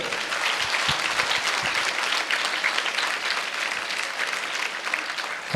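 An audience at a motivational speech event in Vizag applauds continuously, with dense, steady clapping that holds at an even level for several seconds and swells slightly at the very end, with no talk over it.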